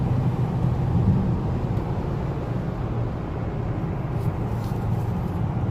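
A 2019 Honda Accord Sport with the 2.0t engine and manual transmission drives in 4th gear, a steady low engine drone and road roar inside the cabin with no other sounds.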